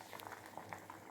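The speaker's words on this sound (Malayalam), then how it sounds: "അങ്ങനെ നമ്മുടെ കുക്കറിൽ കിടന്നുകൊണ്ട് നമ്മുടെ സാമ്പാർ തിളയ്ക്കുകയാണ്" Sambar boiling in a pressure cooker, a soft, faint bubbling with small irregular pops over a brief moment, heard close with no other sounds.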